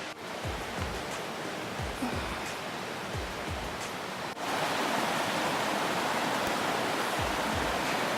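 A Pacific Northwest river near a short hiking trail rushes steadily as continuous broadband water noise, growing slightly louder and fuller partway through, with faint low thumps beneath and no voices.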